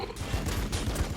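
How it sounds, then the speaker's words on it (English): Bolt pistols fire at long range in the Warhammer 40K Battlesector strategy game, a rapid stream of overlapping gunfire bursts with a steady, dense rhythm and no talking. "So they're using their bolt pistols at long range."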